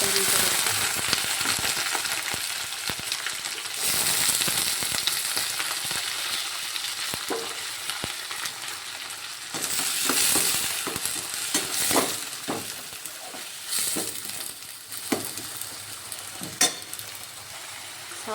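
Crushed garlic, onion and beans frying in a pan of hot oil, a loud, steady close sizzle that crackles on and off for the whole stretch, with occasional light stirring scrapes and no voices.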